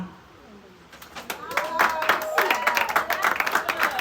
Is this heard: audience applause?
yes